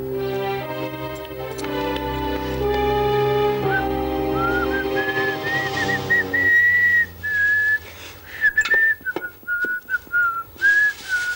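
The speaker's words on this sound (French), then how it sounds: "Oh, siffler en travaillant?" A person whistles a bright, wandering tune, first over background music, then alone with a few clicks and knocks around it.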